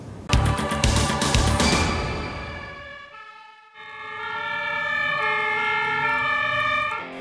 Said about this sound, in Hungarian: A Maros-hegyi parttelepre érkeznek szirénázva a tűzoltók